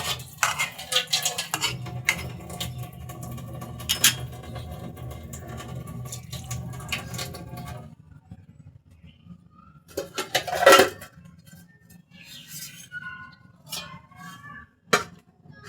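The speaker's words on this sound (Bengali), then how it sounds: "এখন আমি কিছুক্ষণের জন্য ঢেকে দেব।" A lid set down over a cooking pot of tengra fish curry with potato and tomato, with a sharp metallic clatter after a stretch of kitchen clinking and background rumble, then a few lighter knocks.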